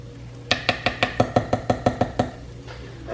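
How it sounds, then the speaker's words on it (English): A whisk stirs tuna into a creamy casserole sauce in a pot, making about a dozen evenly spaced clinking knocks against the pot's side in a steady rhythm before stopping. "I use the whisk when I'm doing this because just to break up the tuna and make sure it's evenly spread out in the sauce"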